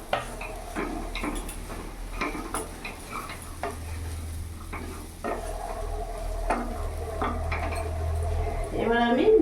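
A spoon stirs potato curry with chickpeas and papaya in a pan, scraping and clinking against the metal in irregular strokes over a low background hum, close and fairly clear, with a short burst of louder clatter at the end.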